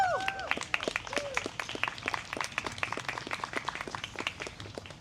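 Scattered applause from a modest crowd welcoming student representatives on stage at a community unity walk, with distinct individual claps in a loose, uneven rhythm and brief voices at the start.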